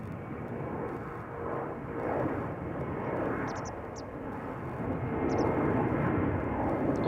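A TUI Boeing 767 departs Amsterdam Schiphol on parallel runways, bound for Lanzarote: a steady, loud, broad jet roar that swells gradually and holds throughout, with a few faint high chirps above it.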